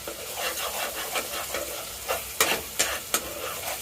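Chicken masala stir-fried in a pan makes a constant sizzle, broken by sharp scraping strokes that grow louder and more spaced toward the end.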